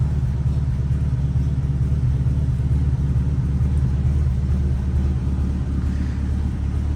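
A low, steady engine rumble from a 1954 Pontiac Chieftain with an inline-eight idling nearby, heard from the rear of the car, continuous and even, with no talking over it.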